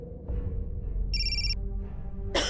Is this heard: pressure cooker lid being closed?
no